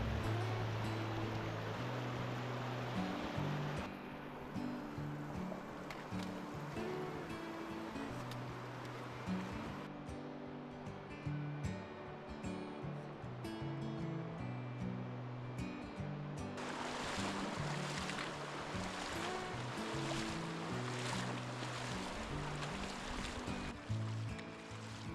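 Water rushing over rocks in a narrow canyon with clear flowing water and calm blue pools, a steady broadband roar that swells louder in the last stretch, alone with no voices.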